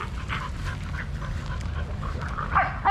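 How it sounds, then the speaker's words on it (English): Several excited dogs bark, yip and pant in a steady, close, lively clamor throughout, with a louder burst of barking near the end and no talking. "All right, these dogs are going nuts."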